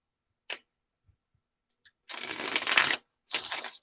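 Gilded Tarot cards being shuffled by hand: a short riffle, a few faint taps, then a longer crisp ruffling burst followed by another brief riffle, close and clear.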